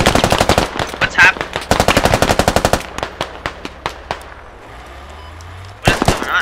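Video game gunfire in rapid automatic bursts, loud and close, with dense rattling volleys broken by pauses and a few single shots before another burst.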